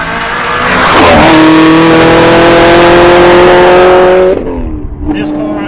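A Chevrolet Camaro ZL1 Exorcist with a 1200 hp engine revs loudly and holds a steady high roar for several seconds, then cuts off sharply and settles into a rougher, quieter rumble with a brief blip.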